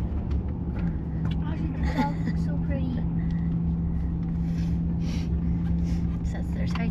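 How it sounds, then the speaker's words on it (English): Road traffic rumbles steadily as heard from inside an RV travelling through Texas, a constant low engine and tire drone with a faint tonal hum, while people talk quietly over it. "Traffic."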